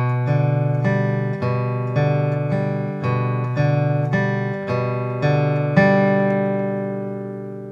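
An acoustic guitar is fingerpicked in a steady, repeating pattern of ringing notes, evenly paced and close, with the last chord left to fade out.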